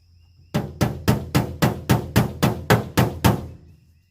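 Steel body hammer striking a car body panel backed by a dolly, about ten sharp metallic blows in a steady, evenly spaced rhythm, close and loud, with a faint hum before the first strike.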